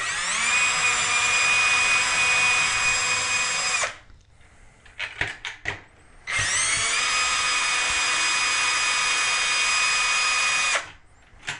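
A power drill whines steadily at close range, backing tension rods out of a snare drum's lugs in two long runs, separated by brief clicks and rattles.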